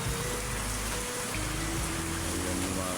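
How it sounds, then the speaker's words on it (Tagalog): Heavy rain on a provincial road toward Nasipit, a steady dense broadband wash with low rumble underneath, constant and loud throughout with no voices. "Dahil malakas ang ulan."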